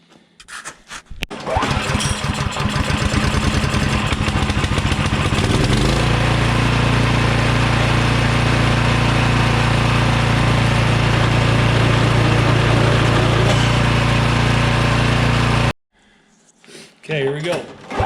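An MTD Gold snow blower engine starts up and runs loud and steady close by, with mechanical rattling and belt or gear whir, then cuts off abruptly near the end.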